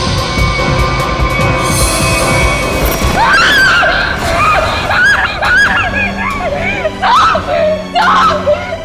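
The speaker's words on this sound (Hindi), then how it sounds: "इतनी जोर से क्यों चिल्ला रही है?" A woman screams loudly in a crime-drama scene, a string of high, wavering cries that start after a few seconds of rushing background noise and stay close and strong.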